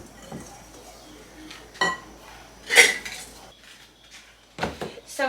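Maple walnut cupcake batter being mixed in a bowl, with a few sharp clinks and scrapes of a utensil against the bowl spaced apart over near-quiet gaps, fairly close.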